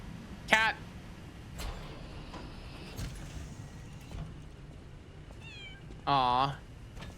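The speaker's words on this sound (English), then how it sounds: "Cat." A cat in the video game Lies of P meows twice, a short cry early on and a longer, louder one near the end, over quiet game ambience.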